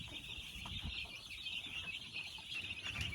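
Hens on a small chicken farm giving low, soft clucks and murmurs close by over a steady high background chirr, with no talking.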